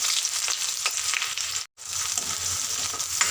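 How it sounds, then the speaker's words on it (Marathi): Finely chopped onion frying in hot oil in a kadhai, a loud, dense sizzle that cuts out briefly midway and then resumes just as strongly. "आता त्यामध्ये बारीक चिरून असा कांदा"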